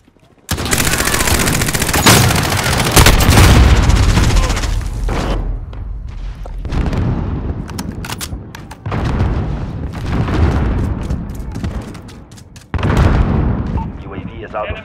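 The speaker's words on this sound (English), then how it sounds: "Cluster strike is go for launch." Cluster strike in Call of Duty: Modern Warfare team deathmatch on the Vacant map, a rapid string of loud, heavy explosions rolling in overlapping bursts, with a game voice heard briefly.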